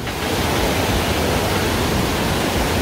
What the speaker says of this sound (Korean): 엄청난 계곡의 물살이 내뿜고 있습니다